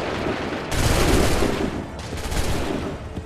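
A musket volley booms out in the Assassin's Creed 3 video game, with a loud opening burst of massed gunfire followed by a second rolling crackle of shots.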